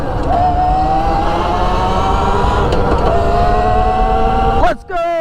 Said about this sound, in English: Electric 4-speed dirt bike. This thing's sick.